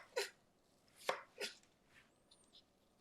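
Knife chopping vegetable slices into matchsticks on a board, three crisp close cuts followed by fainter taps in a quiet room.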